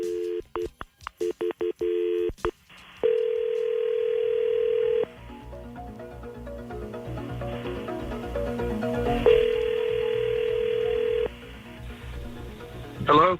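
A telephone handset on a call plays a steady dial tone, then keypad dialing beeps, then a long continuous ringback tone with faint background murmur underneath.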